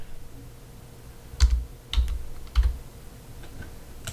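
Someone types a first name on a computer keyboard while creating an account, a short run of crisp, close key clicks in small irregular bursts over a quiet background.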